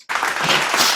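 A short burst of crowd applause erupts suddenly after a brief silence and holds at full, dense clapping for under a second.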